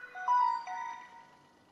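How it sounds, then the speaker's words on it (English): A Samsung phone with a broken screen plays its short startup chime, a clear, close electronic melody of a few sustained tones that fades out. "I will turn on the phone to see that the screen is not working, and we can hear the startup sound"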